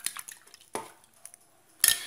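Cassava pieces rinsed with water in a kitchen sieve for a cassava cake, giving a few scattered clinks and knocks of the sieve with brief splashes, short and close, with no talking.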